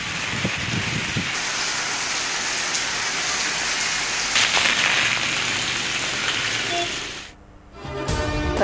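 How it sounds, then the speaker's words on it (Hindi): Steady dense rain hiss in news footage of rainfall across Punjab, Khyber Pakhtunkhwa and Azad Kashmir, continuous and fairly loud, briefly dropping out near the end before resuming. "पंजाब, खैबर पख्तूनख्वा और आज़ाद कश्मीर में बारिशें।"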